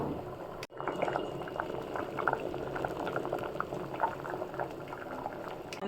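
Mushroom biryani boiling in a pot with the mushrooms floating, a steady close bubbling simmer that runs throughout after a brief knock near the start.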